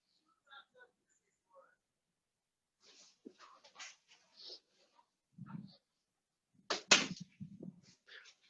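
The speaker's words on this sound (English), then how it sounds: "there's one of my dogs just woke up" A pet dog stirs awake in a quiet home, letting out a few short whimpers and soft whines in scattered bursts, with a voice talking to it nearby.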